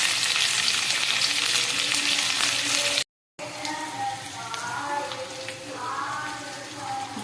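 Coriander dropped into hot oil for an aloo baingan sabji gives a loud, steady, close sizzle that breaks off briefly, then resumes with scattered crackles and pops.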